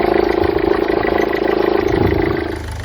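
Peugeot HDi diesel engine, freshly repaired after a failed auxiliary belt, running steadily up close with an even, fairly loud clattering idle that settles slightly at the end.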